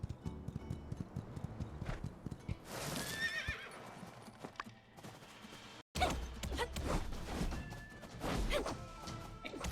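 Steady clip-clopping hooves with a horse neighing and whinnying in the video game My Time at Sandrock, mixed with clanking and impact noises, fairly loud and busy throughout.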